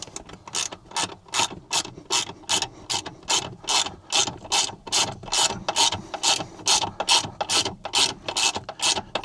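A hand ratchet clicks in quick, rhythmic bursts up close, about two dozen even strokes, as Torx bit bolts are snugged down on a rear seat cupholder mount inside an Ineos Grenadier.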